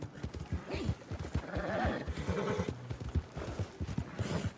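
In a video game, a horse whinnies loudly over rapid hoofbeats, its galloping clip-clop continuing close and steady throughout.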